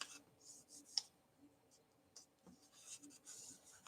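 A sheet of paper is folded and creased into a dart-style paper airplane, soft close rustles and scrapes with a few sharp crinkling clicks, very quiet.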